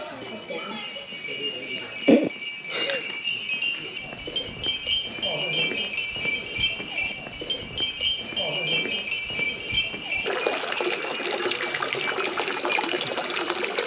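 Water poured from a ladle at a Japanese shrine purification basin, a steady splashing trickle into the basin, with people talking nearby and a louder rush of water toward the end.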